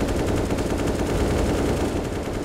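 Steady, dense spray of automatic gunfire in Counter-Strike: Global Offensive, a player holding down the trigger to fire blindly through a smoke grenade cloud during a competitive match; loud, continuous rapid shots without a break.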